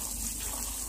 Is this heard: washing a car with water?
yes